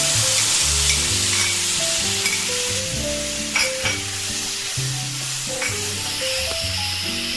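Bottle gourd cooking in a dry wok with turmeric and salt and no oil, a steady hiss and sizzle with occasional stirring scrapes, close and continuous over soft background music.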